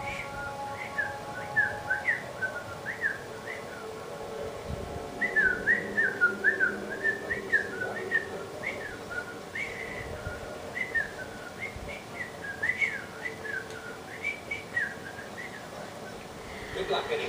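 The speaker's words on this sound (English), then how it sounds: "Ah, can't whistle that well." A person whistles a wavering, bird-like tune in short phrases over a soft background hum and faint noises, pausing around the middle before starting again, with no talking.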